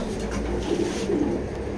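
Racer pigeons, a male and a female pair, coo in low repeated rolling calls, close and clear over a light background hum.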